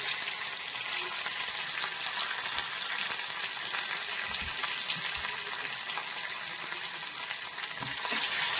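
Mustard seeds and onions frying in hot oil, a continuous close sizzle with faint scattered pops and light knocks from the pan.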